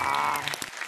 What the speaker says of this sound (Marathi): कडकडीत टाळ्या.